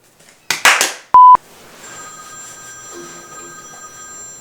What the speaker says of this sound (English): Is that my phone or one of y'all's?